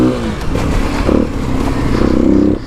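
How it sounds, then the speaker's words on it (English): 2021 Kawasaki KLX300 dirt bike ridden on off-road trails, engine rising and falling in short revs with clattering and scraping from the terrain, loud and close. "out on the trails on the KLX300"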